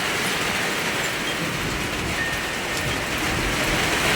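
Heavy rain pours down in a dense, loud, unbroken roar that fills the whole stretch.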